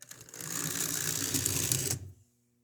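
A small electric motor in a model railway locomotive whirs and buzzes steadily for about two seconds with a rhythmic rattling, then cuts off into near silence.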